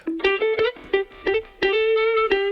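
Electric guitar riff played through a distortion pedal in a lo-fi drum and bass production, sustained gritty harmonic notes with sharp plucked attacks in a repeating phrase, close and clear with no talk.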